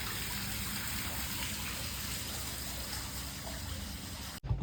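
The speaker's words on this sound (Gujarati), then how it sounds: "ત્યાં એક નાલું છે, ડાયરેક્ટ તળાવમાં પાણી જાય." Rainwater rushes steadily through a drain channel into a pond, a close, continuous gushing flow that cuts off abruptly at the end.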